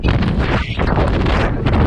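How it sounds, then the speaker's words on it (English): Strong, loud wind on Mt. Elbert buffets the microphone with a constant roaring rumble, briefly easing for a moment before gusting back at full force. "It's really windy!"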